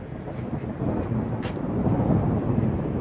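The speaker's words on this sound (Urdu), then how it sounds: "یہ جو آوازیں سنا رہا ہے کون ہے؟ یہ گرج چمک کے ساتھ یہ کوئی ہے؟" Thunder during a rainy thunderstorm: a steady, deep rumble with broad noisy roar that swells slightly and holds for about three seconds, heard fairly close and continuous with no voices.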